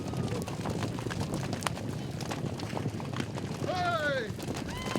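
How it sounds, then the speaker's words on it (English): Horses galloping out to their overnight pasture at a Wild West ranch in Colorado, a rumble of running hooves with clip-clop under steady outdoor noise, and a high whinny-like call near the end. "Quitting time for the horses. And they put on the thrilling show as they head out for their overnight pasture"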